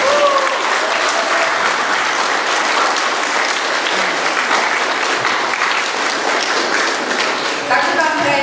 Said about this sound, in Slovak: A veľký potlesk.